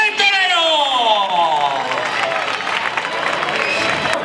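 A crowd at a recortes bull-dodging contest in Aldeadávila, Spain, claps and cheers loudly over a rising whistle-like tone, the applause sustained and fairly close.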